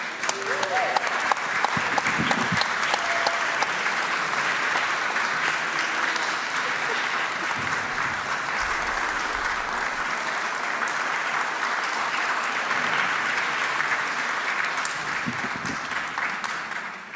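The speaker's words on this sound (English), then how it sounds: "Please give him an enormous round of applause." Sustained applause from a large audience at a piano recital, loud and continuous, holding steady throughout before easing slightly at the end.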